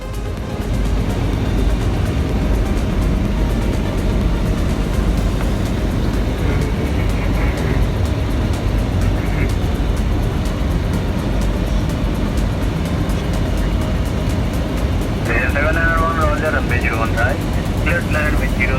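Loud, steady broadband roar of an airliner heard from the flight deck in flight, continuous and unchanging, with faint muffled cockpit chatter and brief tonal blips partway through.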